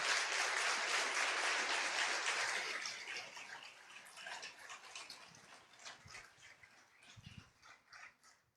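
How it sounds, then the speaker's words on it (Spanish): A church congregation breaks into loud, dense applause that fades out after a few seconds, leaving scattered claps and faint room noise. "dele un aplauso al Señor"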